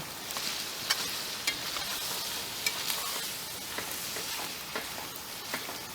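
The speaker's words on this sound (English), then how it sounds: "This burger meat is ready to come out of this skillet" Ground burger meat sizzles and crackles steadily in a skillet over an open campfire, a dense frying hiss broken by sharp pops and occasional stirring scrapes, with no voices.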